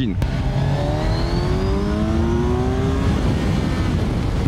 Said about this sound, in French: le moteur a vraiment un petit coup rageur